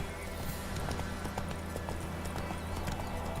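The horse Roach gallops in The Witcher video game, with steady, rapid hoofbeats that run continuously and fairly loud over a dense, noisy game soundscape, and no speech on top.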